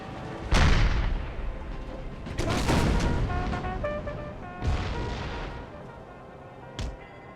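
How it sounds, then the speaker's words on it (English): Cannon artillery fire from Empire: Total War, Civil War battle setting: several heavy booming blasts spaced a few seconds apart, loud and close, with rumbling tails and faint ringing tones between shots, no talking. "They have a lot of cannons back here."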